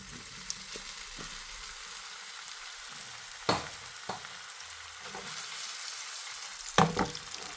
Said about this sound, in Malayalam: എണ്ണ ചൂടായി വന്നിട്ടുണ്ട്. അതിലേക്ക് നമ്മൾ നേരത്തെ റെഡിയാക്കി വെച്ച സോയ ഇട്ട് കൊടുക്കുകയാണ്.